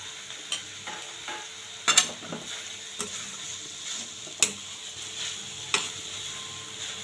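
Vegetables and oats fry in a pan with a steady sizzle while a utensil stirs and scrapes, giving sharp clinks every second or so. No one speaks.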